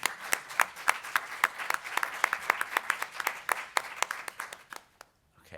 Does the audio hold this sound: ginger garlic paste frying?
no